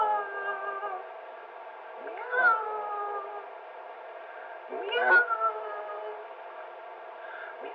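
A human voice imitating a cat's meow, several drawn-out tonal meows in a row, each with a rising then falling pitch, fairly quiet and alone.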